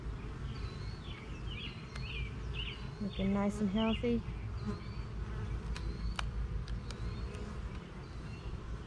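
Bees buzz densely around an open beehive box in a continuous drone, with a person speaking briefly midway and faint bird chirps scattered over the hum.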